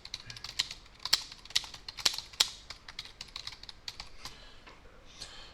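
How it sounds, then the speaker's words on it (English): Someone types an email message on a computer keyboard, tapping a quick, uneven string of close, crisp keystrokes with a few louder hits. "Then type your email message."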